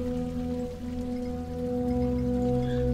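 Water being filled in a video game, a steady trickling, splashing stream with a constant low tonal hum beneath it, continuous and close.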